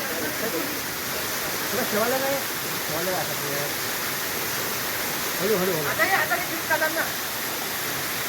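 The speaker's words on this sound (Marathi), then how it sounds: "मस्त धबधबा आहे" A steady, rushing roar of a waterfall fills the scene, with people chatting and calling out over the constant water noise.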